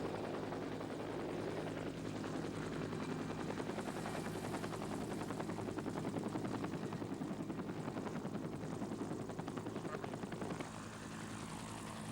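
A helicopter carrying a search team thunders close and steady with a fast rotor chop on a mountain ridge about three miles north of the Mount St. Helens crater, easing off slightly near the end.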